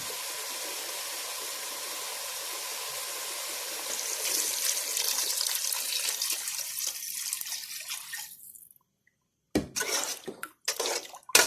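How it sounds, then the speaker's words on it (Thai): Water poured into a cooking pot for a pork bone and cabbage curry, a steady close splashing stream that swells, then stops, followed by a few short pours and dribbles. "ผมได้ที่เราก็ใส่น้ำลงไปเลยครับ"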